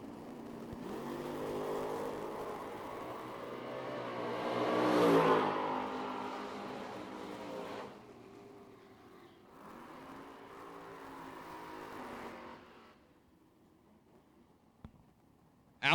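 Drag racing cars at the Lone Star Summer Shootout, including the Scoggin-Dickey Parts Center Race Shop Camaro, launch with a loud rising roar that swells, peaks and fades into the distance, followed by a quieter second pass and a sharp thump at the end.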